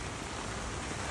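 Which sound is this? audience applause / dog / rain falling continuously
rain falling continuously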